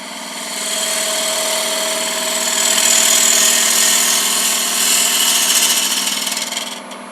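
A wood lathe spins a paten blank while a gouge cuts in where a bead will go, a steady loud high-pitched whine and hiss that swells slightly as the cut bites, with no talking.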